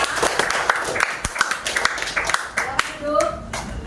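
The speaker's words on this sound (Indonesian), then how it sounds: "Tepuk tangan untuk sekali lagi untuk Devita" An audience in a classroom claps for a student, a burst of quick, uneven, close hand claps lasting a few seconds, with voices mixed in near the end.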